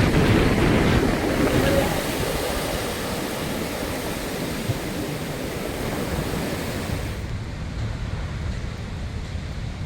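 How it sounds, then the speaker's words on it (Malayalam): Rough sea surges against an eroding coastline between Moonnangadi and Pallivalappu, a loud, continuous roar of breaking surf and wash that eases slightly toward the end. "കടൽക്ഷോഭം"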